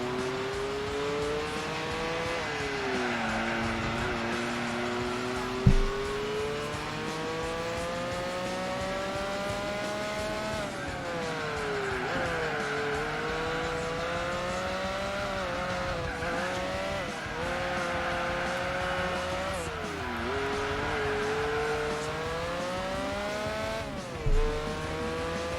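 Endurance race in Gran Turismo 4 featuring a TVR, Dodge Vipers, a Lotus and a Corvette, with a continuous engine drone that rises and falls through gear shifts and occasional brief tire squeals, loud and steady without speech.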